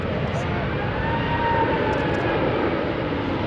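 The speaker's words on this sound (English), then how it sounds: "He tilts up, drops his speed and comes round again, nose up at the lowest speed possible." An Airbus A380 on a flight-test display pass flies low and slow, nose up, its engines a broad steady roar throughout while a narrator talks over it.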